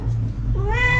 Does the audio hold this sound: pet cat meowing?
yes